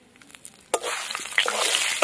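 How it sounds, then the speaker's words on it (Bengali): Whole garam masala with bay leaf, dried red chilli and sugar hits hot oil as tempering: a few light taps, then a sudden loud burst of sizzling that stays strong with crackling pops. "গোটা গরম মশলা ফোড়ন দিয়ে দেবো"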